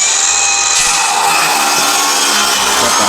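Power saw cutting into the drywall and studs of an old house under restoration, a loud, steady, close whine that continues without a break, with no talking.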